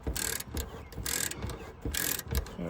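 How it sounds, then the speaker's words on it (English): A ratchet spins out the center bolt on the rusted rear hatch of a Ford Escape, three bursts of fast, close clicking separated by short pauses, with no talk. "So removing the center bolt."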